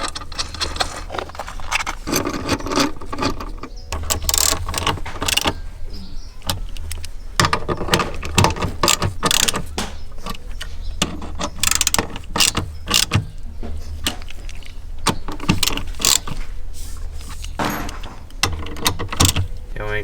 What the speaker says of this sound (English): What I'm gonna do is bolt the shifter down and then clip the cables in.